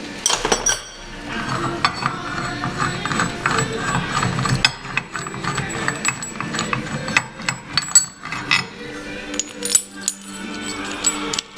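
A bolt is worked loose and removed from a lathe tailstock, with metallic clinks, ratcheting clicks and clattering handling noises close by, busy and uneven throughout without clear speech.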